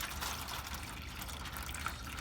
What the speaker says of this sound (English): Then you're going to take your water, just pour it right in